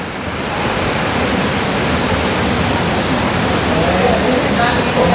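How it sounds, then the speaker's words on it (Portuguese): Heavy rain pouring steadily outdoors, a dense, loud, unbroken hiss that holds through the whole stretch with no talk over it. "Tá feia a chuva, né?"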